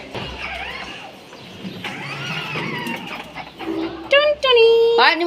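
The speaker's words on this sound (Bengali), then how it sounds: "দেখে আমাদের পাখিগুলা কি করে" Pigeons and other pet birds squawk above steady chatter near the end, with voices talking throughout.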